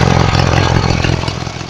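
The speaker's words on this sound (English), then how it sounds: "Kind of a little buzzy sound, like if you listen to the exhaust" Motorcycle exhaust idling close by with a steady, slightly buzzy throb and faint rattle, loud and constant without voices.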